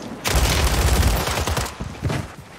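Heavy AMR anti-materiel rifle gunfire in Call of Duty Warzone, a loud, booming volley up close that rolls on for over a second and then tails off into a few fainter reports.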